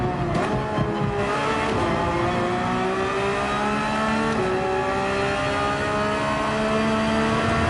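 Porsche 911 GT3 race car in Gran Turismo 7 held at full throttle, its engine howling loud and close with steady high revs and brief dips at gear changes, continuous throughout.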